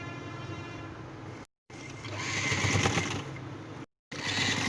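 A sewing machine runs in steady, fairly quiet whirring stretches, stitching around the edge of a baby's net frock, with two brief pauses in the motor.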